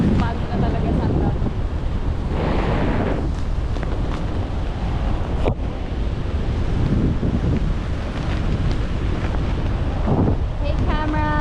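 Strong, steady wind roars and buffets the microphone during parasailing, with a deep rumble like surf underneath and brief voices breaking through.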